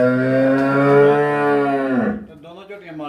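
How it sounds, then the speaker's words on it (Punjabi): A buffalo heifer lets out a loud, close, drawn-out moo that holds steady for about two seconds, then wavers into a rougher, lower tail. "ਚੰਗੀ ਸੋਹਣੀ ਝੋਟੀ ਆ"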